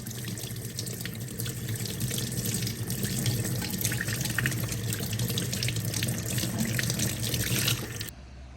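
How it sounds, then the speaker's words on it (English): Running tap water pours steadily and loudly close by, a constant hiss and splash as an electric shaver is held under the stream, cutting off near the end. "so we got it wet, running under some water"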